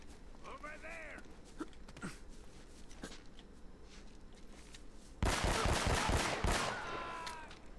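Gunfire from Uncharted: Drake's Fortune bursts in near the end, a quick string of loud rapid shots after several seconds of quieter play with scattered faint reports and someone talking over it.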